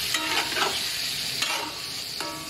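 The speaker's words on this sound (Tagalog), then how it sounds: "Lagyan na natin ang pork. Igisa lang natin yan." Pork sautéing in a pan, a continuous close sizzle broken by a few sharp stirring scrapes of the utensil against the metal.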